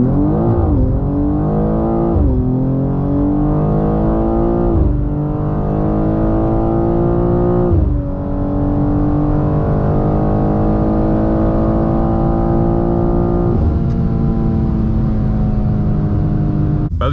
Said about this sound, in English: you guys can kind of hear what the exhaust sounds like under wide open throttle, at least inside the cabin